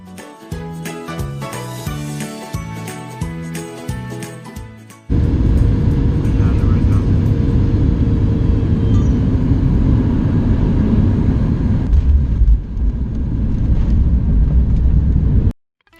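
Boeing 737 MAX airliner, an American Airlines flight descending into Orlando, heard from inside the cabin: a loud, steady engine and airflow roar that fills the clip after a short stretch of rhythmic music, then cuts off abruptly at the end.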